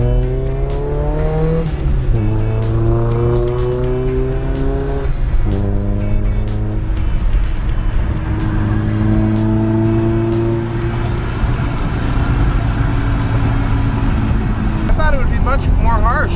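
An E30 BMW M3 out on a cruise, its engine droning and rising through repeated revs and gear changes from inside the car, loud and continuous beneath people chatting.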